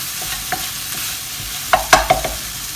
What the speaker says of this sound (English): you basically stir it in